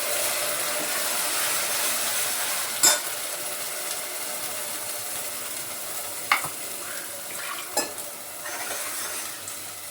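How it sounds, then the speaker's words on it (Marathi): Ground masala paste sautéing in hot oil for an urad dal dish, a steady soft sizzle with occasional sharp scraping clicks from stirring, fairly close and with no talking. "हे वाटलेलं वाटण त्यामध्ये तेलामध्ये असं छान परतून घ्यायचं"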